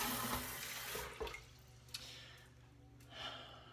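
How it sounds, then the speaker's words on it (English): Running tap water from a bathroom sink while a face, shaving soap and brush are wetted, with a steady splashing wash and a few brief louder splashes, close by and with no talking. "I'm going to wet my face, wet the soap, wet my brush,"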